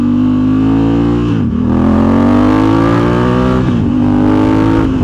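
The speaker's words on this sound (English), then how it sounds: "Have a little listen to this exhaust." A 2024 Honda CRF1100 Africa Twin motorcycle exhaust revs loudly, engine pitch climbing steadily then dropping twice before rising again, close and dominant with no talk.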